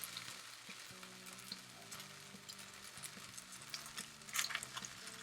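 A gluten-free vegetable pancake made with rice flour fries in a pan, giving a steady close sizzle with faint crackles and a few brief scrapes or stirring touches, no talk.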